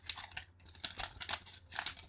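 Crinkly foil of a Pokémon card booster pack is torn open in short, quiet bursts of rustling and crumpling close to the microphone.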